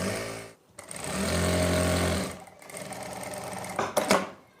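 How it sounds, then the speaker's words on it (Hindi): A sewing machine stitches fabric while fitting elastic, running in two close, loud bursts separated by a brief pause, with clicking and fabric handling near the end. "यहां तक हमें सिलाई लगानी है।"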